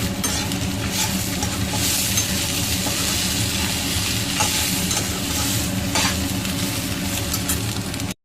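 Cumin seeds, mustard seeds and curry leaves sizzle in hot oil in a pan while being stirred, a steady close frying hiss with faint scraping for about eight seconds.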